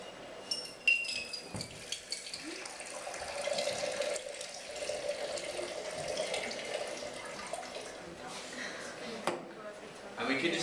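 A liquid is poured into a glass beaker during a school chemistry pH colour-change demonstration, making a soft, close splashing trickle with a voice in the background.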